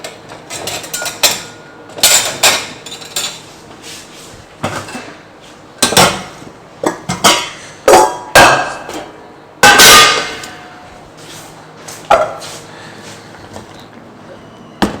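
Cooked vegetables are scooped and drained through a sieve over metal pots, producing repeated loud clangs, knocks and scraping of metal utensils at an uneven rhythm close by.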